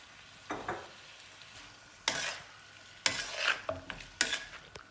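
Spring onions stirred into chicken spring roll filling in a pan, a few separate bursts of scraping and sizzle against a quiet background, close and moderately loud, no talking.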